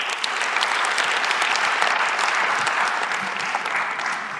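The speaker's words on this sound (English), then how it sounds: "a round of applause to our speakers, please" A conference audience applauds its speakers at a youth forum on sustainable nuclear technologies: steady, dense clapping from many hands, held at an even level for several seconds with no voices over it.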